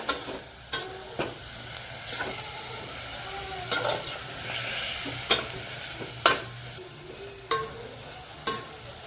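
Vegetables sautéing in a pan for sweetcorn masala rice: a soft continuous sizzle punctuated by regular sharp scrapes and clinks of a stirring spoon, close up, with no talking.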